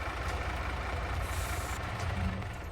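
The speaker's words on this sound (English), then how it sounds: "I hear something running over here. Ah, I didn't turn off my truck." A truck's engine left running in Farming Simulator 22 idles as a steady, low rumbling drone at even volume throughout, with no speech.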